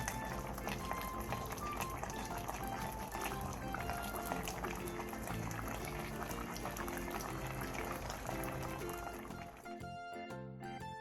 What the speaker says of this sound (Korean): 마지막으로 대파와 청양고추, 홍고추를 넣고 5분 정도 더 끓여 마무리해주세요.